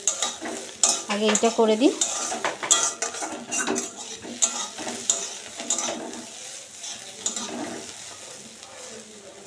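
Potatoes fry in a pan on a home stove while a utensil scrapes and clatters against the metal, with a steady sizzle underneath and a short stretch of talk near the start.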